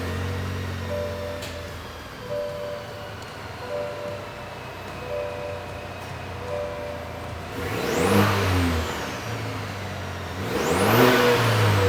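A 2023-or-later GMC Canyon AT4X with the 2.7-liter turbo engine and stock exhaust idles steadily, then revs up sharply twice near the end, each rise climbing and falling back to a smooth hum.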